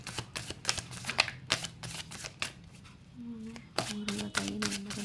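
Tarot cards are shuffled in quick, crisp riffling bursts, close and fairly quiet, with brief pauses and a person talking softly between the bursts.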